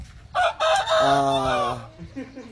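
A fighting rooster crows loudly and close, one long drawn-out call with a rising start and trailing end, with faint background noise.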